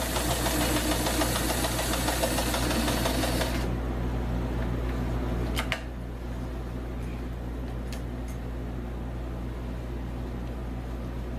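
A sewing machine backstitches a seam on an 18-inch doll's dress, its motor running in a loud, steady whir for about four seconds before stopping, leaving a low background hum with no voices.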